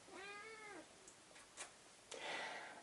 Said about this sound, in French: mon petit chat est malade